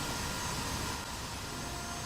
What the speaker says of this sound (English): SF-50 Cirrus. Well, it's jet, and we can also hear the jet sounds.